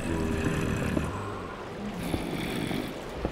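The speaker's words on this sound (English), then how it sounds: "it's raining now" Rain falling in the Minecraft video game: a steady, even wash of hiss and patter that runs unbroken from start to finish, with no voices over it.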